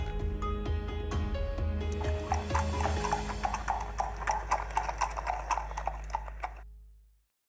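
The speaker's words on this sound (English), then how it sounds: "there are new horses here" Horse hooves clip-clop in a steady sequence of sharp, close knocks, joined by a whinny, over a low tonal backdrop that fades out at the end.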